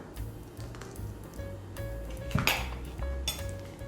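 A spoon scoops leftover cookie crumble onto chocolate pudding dirt cups, giving a few soft scrapes and light clinks of metal against dishes, with one sharper knock partway through.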